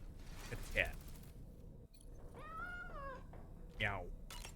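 A cat meows twice in the Death Stranding video game, with a short close meow near the start and another near the end. A voice talks in between.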